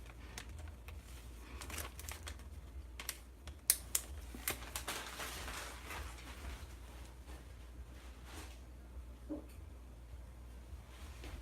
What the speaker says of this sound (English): let me stop crinkling